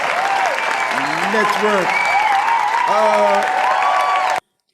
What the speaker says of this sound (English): The crowd is very interactive tonight with the cheers